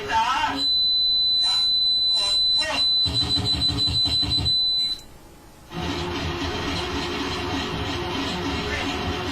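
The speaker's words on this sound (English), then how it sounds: "Here's his analog synthesizer." Harsh analog synthesizer noise, starting with a steady piercing high whine over stuttering pulsing bursts, then cutting briefly before a dense buzzing, droning wall of sound takes over, loud throughout.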